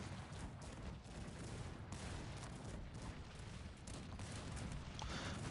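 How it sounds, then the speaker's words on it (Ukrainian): A dense, continuous roar of distant booming gunfire and rumbling blasts fills the whole stretch, a large Cossacks 3 battle with cannons firing without pause. "Наші гармати настрілюють."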